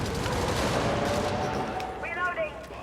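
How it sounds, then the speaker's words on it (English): Video game combat with a rail cannon strike exploding amid heavy gunfire: dense, continuous blasts and rapid shots fill the clip, with a brief tonal game sound near the end and some voice mixed in. "I'm not expecting that rail cannon strike to hit anything."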